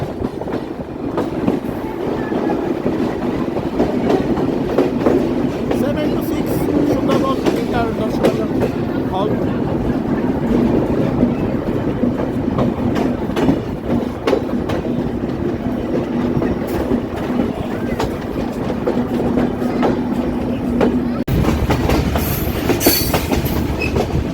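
Sundarban Express No. 726, a down train from Dhaka bound for Khulna, rolls steadily along the rails. Loud, continuous rumble and rhythmic clickety-clack run throughout, with a faint hum from the carriage interior.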